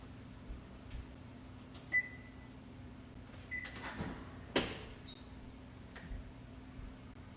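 Kitchen oven set to preheat to 350: faint control beeps and a couple of soft knocks and clicks from the panel and door, scattered across a quiet room hum with no talking.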